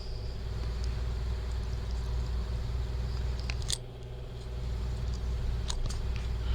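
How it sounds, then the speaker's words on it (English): A car engine idling while warming up on a snowy day, a steady low rumble with a constant hum that holds from start to finish, heard from a distance with a few faint clicks over it. "Warming the car up for my wife. You can hear it in the background."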